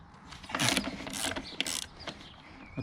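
A wrench ratchets on the rear wheel nut of a Honda CBR650R motorcycle, giving several quick, close metallic clicking bursts over a few seconds with short pauses between them.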